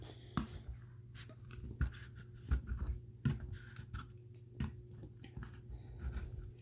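A tool scrapes paper debris off a Scan n Cut SDX225 cutting mat in short, close, rasping strokes that repeat irregularly, with quiet pauses between them.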